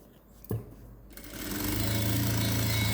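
A sewing machine runs a line of small stitches along silk saree lining, starting after a brief knock and building into a steady, close motor whir that holds to the end.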